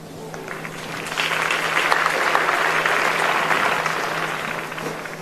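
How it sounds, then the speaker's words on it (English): A ripple of applause spreads around an athletics stadium before a women's 200 metres semi-final at the Commonwealth Games, a broad wash of crowd clapping that swells after a second and holds steady, distant and diffuse. "that ripple of applause going around the stadium"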